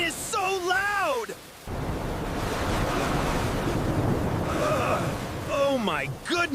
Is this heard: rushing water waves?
yes